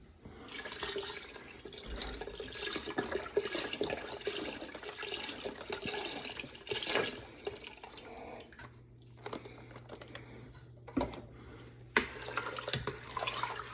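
Liquid pours in a steady stream into a pot of gumbo roux, a faint, continuous trickle and splash with occasional drips and small knocks, close by and quiet, with no talk.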